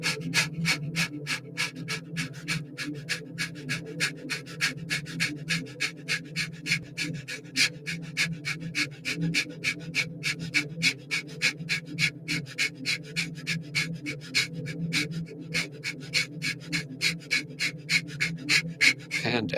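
Fast active breathing exercise: rapid, rhythmic forceful exhales through the nose driven by stomach contractions, about three per second, steady and close over a low hum, with no talking.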